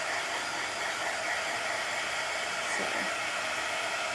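A hair dryer blows in a steady, even hiss as it dries fresh chalk paint on a chalkboard craft piece at close range, with one brief word spoken over it.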